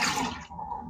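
Strained yogurt whey poured out of a bowl into a sink, a brief close splashing gush of liquid that tapers into a softer trickle.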